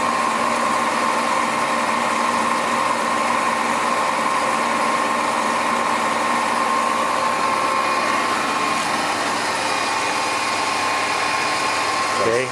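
A 15 by 50 inch Clausing-Colchester lathe runs steadily with a constant motor whine and hum, while people talk nearby over the machine.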